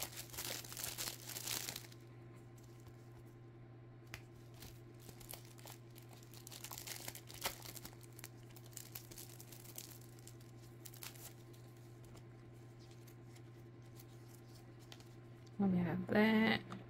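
A crinkly plastic pack of 5D nail art stickers is handled and rustled up close, with a burst of crinkling at the start and scattered softer crackles afterward over a low steady hum.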